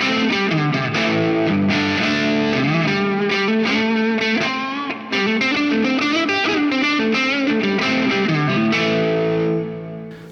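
Distorted electric guitar plays dense, overlapping notes and chords through an amp with reverb placed in its effects loop, the tails turning grainy where notes overlap; loud and continuous, with a brief dip midway and a fading ring at the end.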